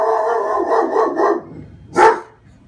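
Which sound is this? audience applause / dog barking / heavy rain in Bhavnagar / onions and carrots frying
dog barking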